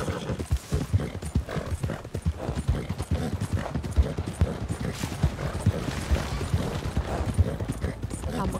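Horse hooves gallop in Red Dead Redemption 2, a steady rapid clip-clop with an occasional whinny running through the whole stretch, close and loud, with gunfire and other game sounds in the mix.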